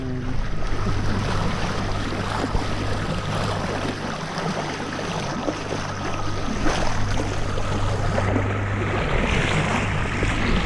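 Ocean waves wash and surge around a sailboat at sea off San Diego, a steady loud rushing with wind buffeting the microphone and a low hum running beneath, no voices.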